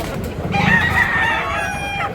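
A tall bullstag rooster with dark legs, offered for sale in Tabunok, Cebu, lets out a single loud, close crow of under two seconds over faint background noise.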